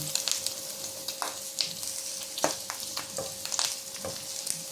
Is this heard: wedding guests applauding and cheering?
no